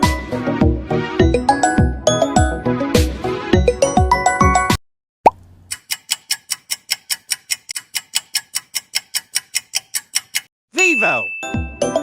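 A Vivo smartphone ringtone plays as a loud melodic chime phrase for about five seconds, followed by a steady run of crisp ticking beats, then a short burst of tones at the end.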